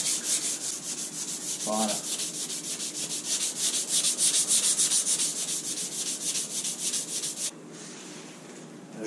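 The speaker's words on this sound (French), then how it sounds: "ici, ben, je vais le poncer" Sandpaper rubbing over a repaired trunk lid on a Renault Mégane cabriolet, a steady rhythmic back-and-forth scraping that stays close and fairly loud for several seconds before easing off, with a brief spoken word partway through.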